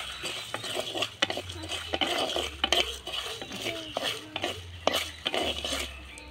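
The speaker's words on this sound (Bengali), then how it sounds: "শুকনো খোলায় আমি মশলাগুলোকে ভেজে নেব" Spices dry-roasting in a dry wok over a stove while being stirred, with repeated scraping and clinking of a metal spatula against the pan in an uneven rhythm, close and fairly loud, no talking.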